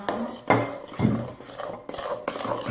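A slime mixture is stirred in a bowl, making repeated scraping, clinking strokes of a utensil against the bowl in a steady rhythm, close and moderately loud, with no talk.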